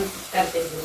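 Milk cream sizzling in a pan as it cooks down into homemade ghee: a brief, moderately loud frying hiss with a soft bubbling crackle and no voices.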